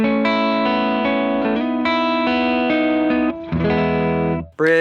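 Bass guitar on the neck pickup, compressed and without a preamp, sounding a run of full, warm sustained notes with effects coloring, close and steady before a brief drop and a final short note.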